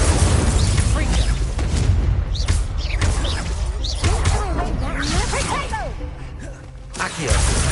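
Incendio and Confringo spells are cast in the video game Hogwarts Legacy, and their dense whooshing fiery blasts run almost without a break. The bursts are loud and near, and a voice is heard faintly underneath.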